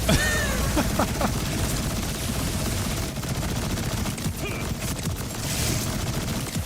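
Rapid submachine gun fire in the Borderlands 4 shooter game, dense overlapping bursts sustained loudly for the whole stretch with scattered impacts and only faint talk in the background.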